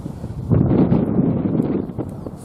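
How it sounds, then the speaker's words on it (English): Wind buffets the microphone outdoors along a disused colliery railway line near Manchester, giving a low, rumbling roar that swells after the first half second and holds with rough fluctuations, no talking. "Pretty windy up here, sorry for the sound."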